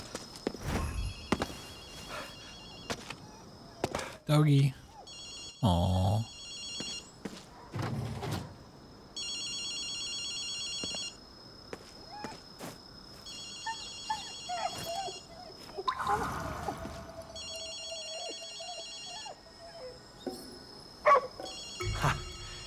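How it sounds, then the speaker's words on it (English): A telephone rings in repeated electronic bursts within the Ghostwire Tokyo game world, mid-loud over footsteps and other game sounds, with brief speech at times. "you hear a phone ringing?"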